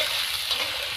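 Potatoes fry with onion and garlic in hot oil, giving a steady, close, continuous sizzle with faint stirring underneath and no voices.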